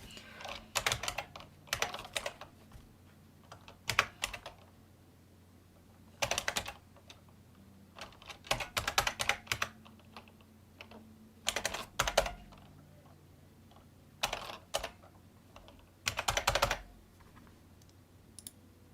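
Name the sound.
typing a Windows 7 product key on a computer keyboard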